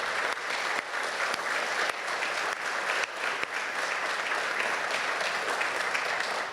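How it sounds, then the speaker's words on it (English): An audience at a medical center press conference applauds steadily and loudly for the whole stretch, a dense even wash of many hands with no talk on top. "Give them a big round of applause."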